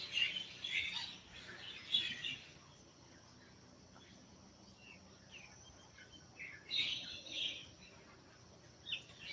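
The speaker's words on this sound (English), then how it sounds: "Oh, my birds." Several birds chirp and call in bright bursts near a coffee spot in Thailand, with loud clusters at the start, around two seconds and again near seven seconds, over a faint steady insect-like hum.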